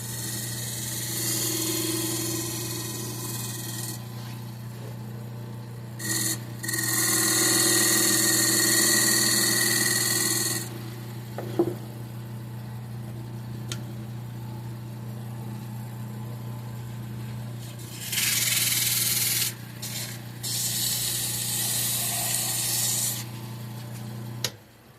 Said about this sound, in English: this is actually a skew that I'm using as a scraper